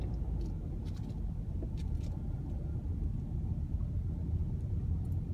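A car enters the Corrigan Drive roundabout in South Park, Pennsylvania, heard from inside as a steady low engine and road rumble that carries on without a break, with faint traffic behind it.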